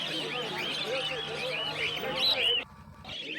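Caged birds at an outdoor pet market, including lovebirds and Black Java finches, chirp and call in a dense continuous chorus. Market voices mix in underneath, and the sound thins out abruptly near the end.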